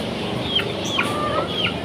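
Chickens clucking and calling nearby, a few short rising cries over a steady murmur of the flock.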